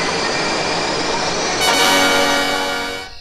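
A subway train runs past in a steady, loud roar of rumbling wheels. The roar shifts into a brighter, higher hum near the end and then fades slightly.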